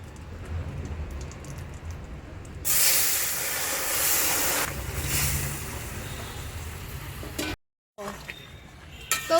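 A Bengali bottle gourd curry with prawns is tipped into a hot kadai, setting off a loud, hissing sizzle that rises suddenly, holds for a few seconds and then eases into softer frying and stirring, broken by a brief cut.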